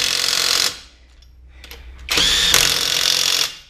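A power tool tightens a wheel on a 2013 Hyundai i10 1.1L during a front wheel bearing job, two loud close whirring bursts separated by a short pause, with a brief rattle in between.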